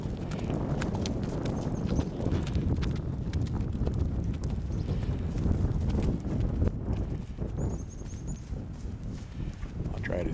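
A horse being ridden out of its corral for the first time, hooves clip-clopping in a steady walking rhythm close by over constant outdoor noise, with other horses nearby and some talk.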